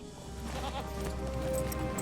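Goat bleating in the game Lord of the Rings Online rises out of a steady game soundscape with a low hum and faint background tones.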